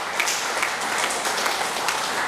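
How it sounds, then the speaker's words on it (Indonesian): An audience at a regent's speech in Biak Numfor, Papua, gives steady, even applause that stays at a moderate level throughout. "Mari kita beri aplaus untuk seluruh bendahara."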